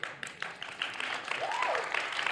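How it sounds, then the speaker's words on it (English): An audience at a talk gives applause with scattered cheers, a dense patter of clapping building steadily across a couple of seconds, with one rising whoop in the middle. "based on the applause and the cheers"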